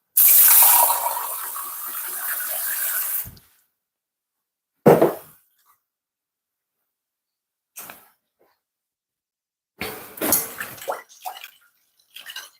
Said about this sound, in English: I'm gonna pour some warm water in this, using about a quarter cup warm water.